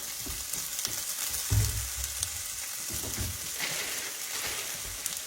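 Smoked sausage frying in a pan, a soft steady sizzle and crackle heard fairly close, with a brief louder bump near the start and no talking.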